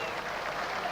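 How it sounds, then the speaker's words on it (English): Football stadium crowd applauding an announcement, a steady broad wash of clapping heard from a distance, brief and even in level. "And that announcement's getting good applause."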